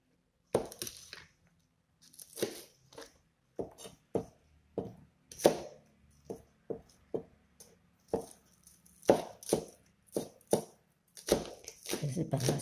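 Green onions being finely chopped with a knife on a board: a rapid run of sharp, close chopping knocks arriving in short bursts and single strikes, some with a light clinking edge.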